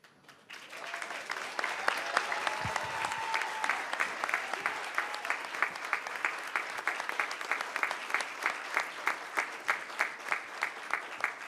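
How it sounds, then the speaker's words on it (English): An audience at a municipal commission meeting applauds the basketball team's young men, steady dense clapping that swells after a quiet start and holds loud throughout, tapering into a few sharper, spaced claps near the end. "I'm glad y'all gave them a round of applause"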